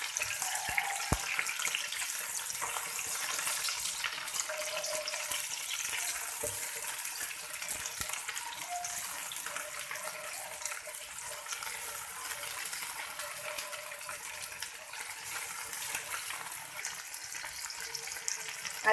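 Ginger garlic paste fries in hot oil in a pan with a continuous, fairly loud crackling sizzle that holds steady for the whole stretch, with no voices.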